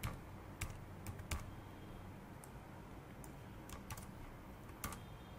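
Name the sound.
typing code on a computer keyboard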